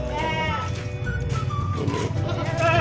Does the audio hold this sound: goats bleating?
yes